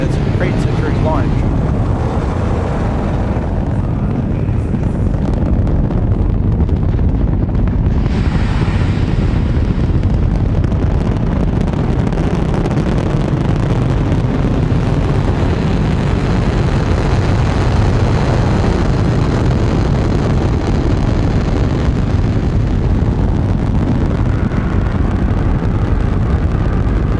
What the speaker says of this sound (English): Just astounding to see the power of these engines.